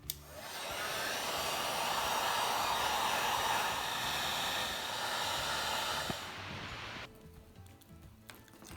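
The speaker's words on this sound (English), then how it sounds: "I'm going to heat it up a little bit more." A heat gun blows steadily and loudly on an iPhone battery's stuck adhesive for about six seconds, a broad hissing rush that then drops away to quieter background.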